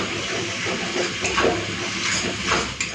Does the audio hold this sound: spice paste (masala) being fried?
yes